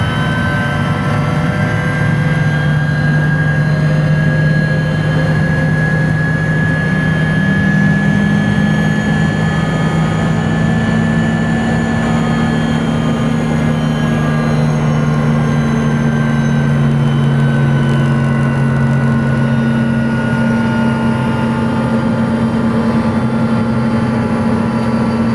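A helicopter heard from inside the cabin as it takes off and flies, a loud steady engine and rotor drone with rising and shifting tonal whine, continuous throughout with no talk.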